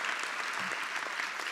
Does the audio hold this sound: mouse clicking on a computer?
no